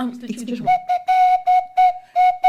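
A swanee whistle played live in a podcast studio sounds a steady high note in a series of short, clipped toots after a brief stretch of voice, loud and close.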